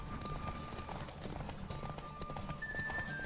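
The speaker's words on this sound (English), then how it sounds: "Don't spare the horse." Horse galloping in The Witcher 3, a steady run of hoofbeats at full pace over game music and ambience, with a tonal hum running underneath.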